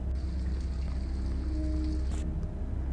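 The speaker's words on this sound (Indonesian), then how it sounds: "Lalu tak lama turun hujan." Steady rain falling, a dense continuous hiss of drops that stays even and fairly loud throughout, with no voices.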